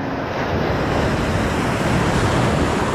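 Ocean surf rolls and crashes steadily at a reef fishing spot on the Philippine coast, a loud, continuous wash of waves mixed with gusting wind noise on the microphone, with no voices.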